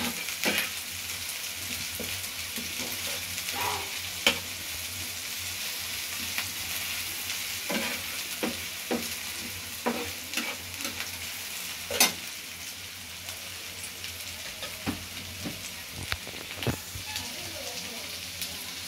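Chopped onion and garlic fry in hot oil for homemade fried rice, giving a steady, close sizzle with scattered pops and stirring scrapes throughout.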